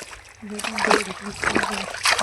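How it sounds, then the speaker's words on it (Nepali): Someone wading across a small stream makes uneven splashes and sloshes of water close by, while people talk over it. "अनि एउटा पानी चाहिँ सानो पानी छ यो पनि अब यो पानी पार गर्ने"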